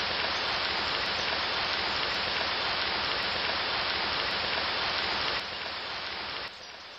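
Rain falls in a dense, even hiss that stays loud and constant, then drops in level twice near the end.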